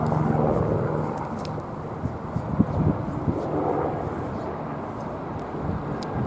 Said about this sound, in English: Helicopter approaching.